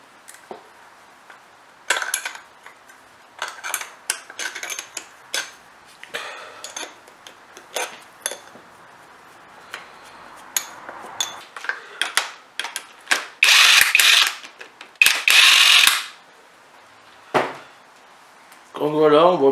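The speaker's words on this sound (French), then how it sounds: "il faut retirer les culbuteurs avant de retirer la culasse" Tools clink and ratchet while rocker arms come off a Renault C1J engine: scattered metallic knocks and clicks, with a few loud harsh bursts and someone talking in between.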